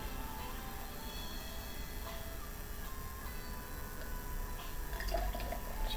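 Imperial milk stout being poured aggressively into a glass, a steady liquid splashing and fizzing hiss with small drips and ticks running throughout, fairly quiet and close.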